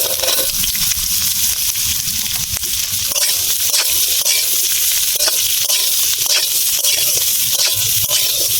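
Cauliflower florets frying in hot oil with tempered five-spice and chili, a loud steady sizzle with crackling pops and occasional stirring scrapes running throughout.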